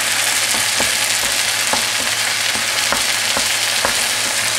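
Egg sizzling and frying in a hot pan at the edge of pad see ew noodles, a steady broadband crackle with faint periodic stirring taps, close and alone without talk.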